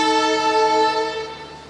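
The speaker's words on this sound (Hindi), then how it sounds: "हम जम्मू के रेलवे स्टेशन पे हैं," A loud, sustained harmonic tone like a train horn sounds at Jammu railway station with an empty train standing at the platform, holding steady before tapering off slightly.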